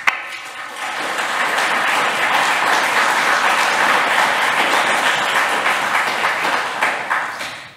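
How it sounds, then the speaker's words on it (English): Sustained applause from a conference audience fills the room, a dense steady wash of many hands clapping at close range, swelling briefly and tapering off near the end with no talk over it. "And thank you for your applause"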